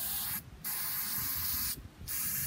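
Two sustained hissing bursts from an aerosol can of Flex Seal sprayed into a hole and onto rebar, each about a second and a half, separated by a brief gap, close and fairly quiet.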